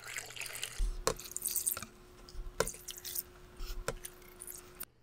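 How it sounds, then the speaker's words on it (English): Water added to a bucket for making plum wine, heard as uneven splashes, drips and sloshing close by, faint and intermittent, with no voices. "So let's go ahead and add water here."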